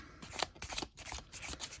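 A deck of tarot cards being shuffled by hand, quick papery riffles and slides in several short bursts, close and soft with no voices.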